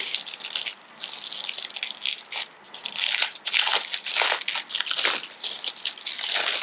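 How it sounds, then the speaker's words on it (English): Loud, close crinkling and crunching of plastic packaging being torn open and pulled off a Ymumuda academic weekly planner with a leatherette cover, in irregular bursts with no speech. "let me open it from the plastic packaging real quick"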